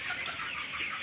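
Chickens clucking inside a large poultry farm shed, a close chorus of overlapping hen calls over a steady background din, very brief, with no talking.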